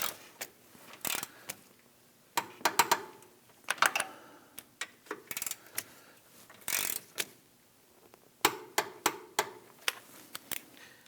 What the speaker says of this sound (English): Let's torque these down to 47 foot-pounds.